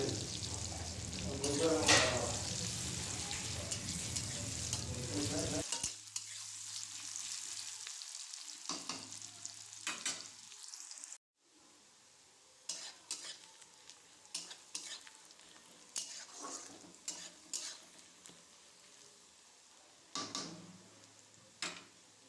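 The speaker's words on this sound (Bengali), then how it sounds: "পেঁয়াজটা ভালোভাবে ব্রাউন হওয়া পর্যন্ত এটাকে ভাজতে হবে" Chopped onions fry in hot oil until brown with a loud, dense sizzle at first, then settle into a quieter crackle broken by intermittent stirring and spatula scrapes.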